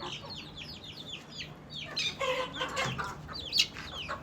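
Chickens cluck and chatter close by, a few sharp squawks rising over a steady background hum.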